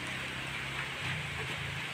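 Rain falls steadily around a home at midday, a soft continuous hiss with no talking.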